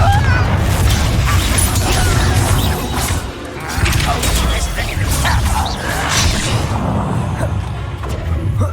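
Confringo fire spell blasts in the Hogwarts Legacy video game, loud crashing booms over a dense, continuous battle din that barely lets up across the stretch.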